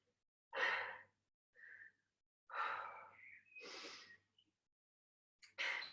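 Heavy breaths during a rest break in a yoga HIIT workout: several loud, separate sighing exhales and gasping inhales, close to the mic with short silent gaps between them.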